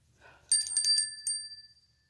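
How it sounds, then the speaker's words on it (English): A bright metallic bell rings in a quick cluster of strikes, then its tone sustains and fades over about a second, heard close and alone in a quiet indoor room. "Oh, ringing the bells again."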